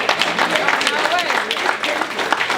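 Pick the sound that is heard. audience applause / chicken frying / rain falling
audience applause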